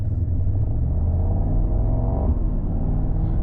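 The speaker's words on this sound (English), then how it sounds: "when you accelerate you get this rumble" A Mercedes-AMG GT 63 Pro rumbles steadily while accelerating at low village speeds, a loud continuous low engine drone that swells slightly mid-pass with no voices over it.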